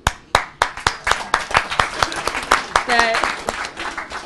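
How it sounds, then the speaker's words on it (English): A DrupalCon London audience breaks into a round of applause, starting with sharp distinct claps that quickly build into a dense, rhythmic clapping from many hands, with a brief voice in the middle. "because round of applause"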